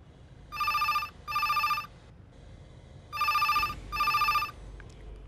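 A telephone rings in a quiet room, giving two pairs of bright, trilling electronic bursts separated by a short pause, moderately close and heard alone without talk.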